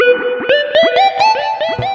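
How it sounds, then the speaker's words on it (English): Notes played in a quick sequence on a GO:KEYS 5 keyboard with its concert hall reverb turned up ring out with a spacious, echoing tail, each tone blurring into the next. "crank up the concert hall reverb"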